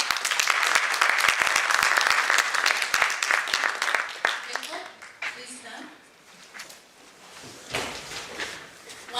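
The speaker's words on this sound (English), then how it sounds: "let's give a clap for the panel" Audience applause for a conference panel at an international literature conference, dense and sustained clapping from a room of listeners that thins out and fades into a few scattered claps and quieter room noise.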